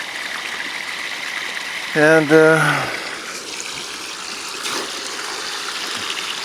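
Water running steadily down a sluice box fed by a 1,200 gallon per hour pump, a continuous trickling stream beneath a brief spoken word.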